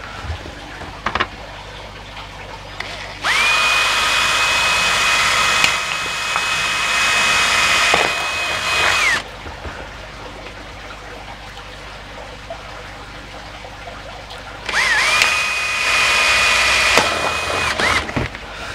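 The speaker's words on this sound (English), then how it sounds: "now all we've got to do is drill a series of holes around the base there" A power drill whines at a steady high pitch for several seconds drilling holes around the base of a plastic bottle, stops, then starts again briefly, close by with background noise.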